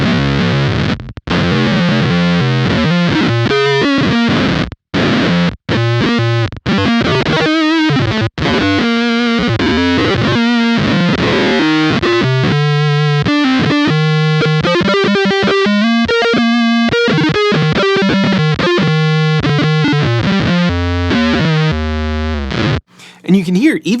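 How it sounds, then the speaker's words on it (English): Electric guitar through a Beetronics Whoctahell analog octave fuzz pedal, producing a gritty, distorted low-octave tone over a long run of busy, choppy note lines with brief pauses, loud and alone. "this is kind of that crazy, gritty, unpredictable analog octave"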